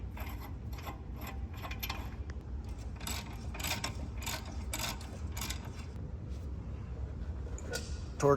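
A ratcheting torque wrench tightens brake caliper bolts on a 2017 Chevy Suburban, giving repeated close mechanical clicking bursts over a steady low background rumble.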